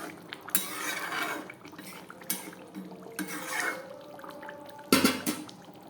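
A pot of fish curry with potatoes comes off the stove in a home kitchen. Metallic clanks and scraping clatter ring out at intervals, with a sharp knock of the pot near the end, over low background noise.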